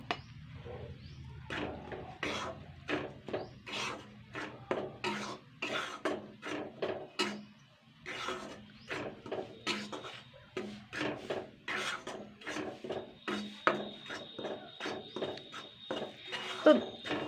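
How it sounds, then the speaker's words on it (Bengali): Gram flour in oil is stirred in a pan over a low flame, a spatula scraping in a steady rhythm of short rasping strokes, close and fairly quiet, with faint voice traces between strokes. "এটা কিন্তু বেসন গুঁড়োটা কিন্তু জাস্ট 3 মিনিট মতন লো ফ্লেমে একটু হালকা নাড়াচাড়া করে নিতে হবে"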